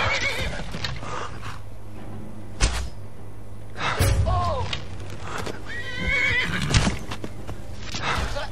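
Horse in the video game Skyrim whinnying several times with clopping hooves, loud bursts spread across the stretch, separated by quieter game ambience and short thuds.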